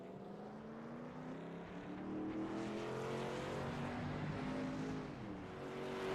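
Race cars circle a speedway at Lucas Oil Raceway, producing a steady, distant roar of several engines whose pitch rises and falls as they pass, with no voices heard.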